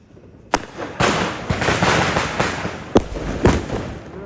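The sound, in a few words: sutli bomb firecracker exploding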